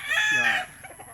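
Gamefowl chickens, a white-bloodline cock and a yellow-legged hatch red hen, give a loud drawn-out crowing call with harmonic clucking tones, then a few softer clucks fade behind it.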